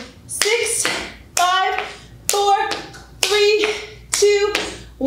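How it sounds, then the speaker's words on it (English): Hand claps beneath a raised knee during a youth and family workout, about five sharp claps in a steady rhythm roughly once a second, each landing with voices calling out between them. "it's a high knee clap. You're gonna clap underneath that knee"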